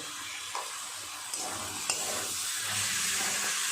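Spices and vegetables stir-fried together in a pan for a Bengali poppy-seed (posto) dish, with salt and a little sugar added. A steady, close sizzling hiss runs throughout, broken by a few sharp spatula clicks and scrapes, with no voices.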